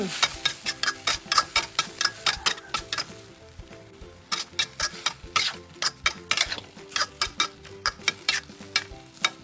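Enoki mushrooms stir-fried with chilli, tomato and spring onion, rapid rhythmic scraping and tapping of a spatula against the pan over a continuous sizzle, pausing briefly midway before resuming.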